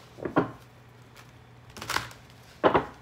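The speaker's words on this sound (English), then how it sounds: "I'm going to keep shuffling" Tarot cards are shuffled by hand in three separate bursts of crisp riffling and slapping, close and fairly loud, with quiet pauses between.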